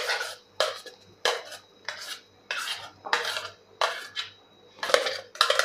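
Mango burfi mixture is scraped into a non-stick kadai in a quick series of about ten rhythmic scraping strokes, each a short rasping sweep of a spoon against the pan, close and clear.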